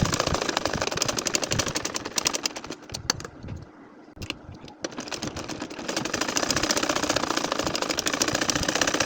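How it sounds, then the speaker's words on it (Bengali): A sewing machine stitches a line of a nakshi kantha quilt, its rapid needle chatter running steadily and close up, with one brief pause midway before resuming. "এখন দেখো আবারও কিন্তু আরো একটা লাইন ধরে সেলাই করে যাচ্ছি।"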